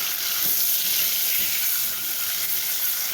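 Kofta frying in oil and butter in a pan, a loud, continuous bright sizzle with steady crackling and no talk.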